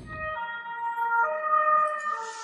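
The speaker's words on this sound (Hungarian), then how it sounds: "ez a hangja alapján mentő volt" Ambulance siren heard outside, a sustained wailing tone that swells and shifts pitch as it passes, clear and fairly loud.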